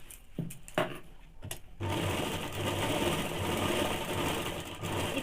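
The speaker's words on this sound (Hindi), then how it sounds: "अब इसमें हम लोग डबल सिलाई डाल देंगे।" After a few sharp clicks and taps, a sewing machine starts up and runs steadily and loudly, double stitching men's underwear at close range.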